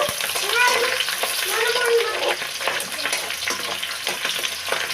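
Onion sizzles and fries steadily in a hot pan with garlic and capsicum, a dense close crackle with stirring scrapes throughout and no voice heard over it.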